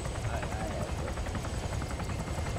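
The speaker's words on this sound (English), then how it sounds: "Watch the chopper." A helicopter in the Arma 3 game drones loud and steady with a rapid rotor chop throughout, close and constant.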